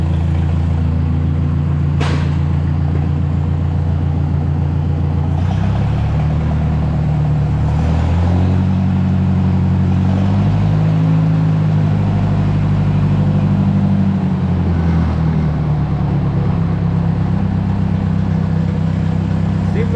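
A Ford 641 tractor engine runs nearby, a low rumbling idle that rises into several revs and falls back, with uneven swells in pitch over a steady rumble.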